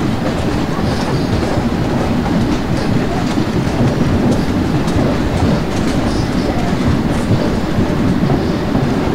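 Locomotive hauling an Indian Railways passenger train from Bhusaval toward Katni in the Open Rails train simulator, a dense steady rumble with rhythmic wheel clatter running unbroken throughout at close range.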